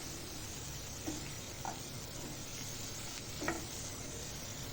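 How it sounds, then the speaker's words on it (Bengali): Potatoes and jackfruit with a tomato and dried-chili spice paste being stirred in a pan, a faint low sizzle broken by a few soft spoon scrapes. "আলুগুলো তুলে আরও একটু মিক্স করে নেব মশলাটার সাথে আর একটু ভালো করে নেড়ে চেড়ে আলুটাও কষানো হয়ে যাবে"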